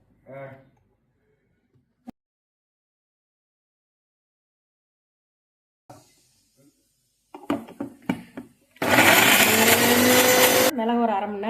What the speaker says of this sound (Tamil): இஞ்சி முதல்ல அரைச்சி எடுத்துக்கலாம்.